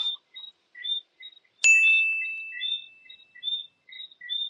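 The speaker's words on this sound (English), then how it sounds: "They're little frogs, and they're incredibly noisy." Small frogs give repeated high, chirping calls in a steady pattern, and one bright metallic ding rings out and fades partway through.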